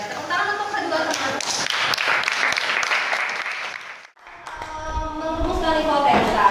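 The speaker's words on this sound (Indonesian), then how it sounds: "tepuk tangan untuk kedua teman" Classmates in a classroom clap for two fellow students, a dense burst of applause with voices mixed in that drops away briefly near the middle before resuming.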